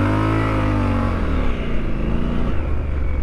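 A 2023 Triumph Scrambler 1200XE engine revs loud and close with traction control off, a throaty roar whose pitch swells and dips over a few seconds, with no voices.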